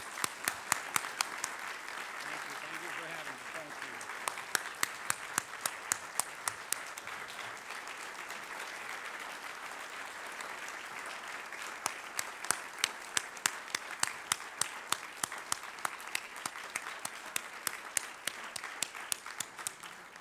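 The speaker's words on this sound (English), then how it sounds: "Ladies and gentlemen, please join me in giving a round of applause to our speaker today." Sustained applause from an audience at a National Press Club luncheon event, a dense even roar of many hands with sharper individual claps standing out near the front, continuing steadily throughout.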